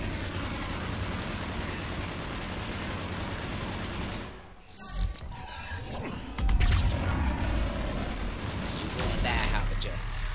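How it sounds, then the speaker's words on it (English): A loud explosion in the video game Mass Effect bursts out after a stretch of dense combat noise, then rumbles on into continuing battle sounds with voices. "That explosion is just something else"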